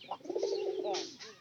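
Pigeons cooing close by in a loft where birds are kept for sale, one soft, rolling coo running for about a second, then a shorter call.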